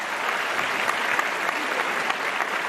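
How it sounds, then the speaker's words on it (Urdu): An audience at an Islamic quiz show during a Ramzan iftar broadcast claps in dense, steady applause that fills the whole stretch, with no talking. "موئز اندر سے تالی نہیں بجاتا"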